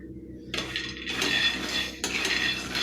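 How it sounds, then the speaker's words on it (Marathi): Peanuts being dry-roasted in a pan over low to medium gas for Solapur-style peanut chutney, rattling and scraping as the nuts are stirred in bursts, with a brief pause between movements and a quiet start. "लो टू मिडियम गॅसवरती शेंगदाणे अगदी मस्त खमंग वास येईपर्यंत भाजून घेऊया"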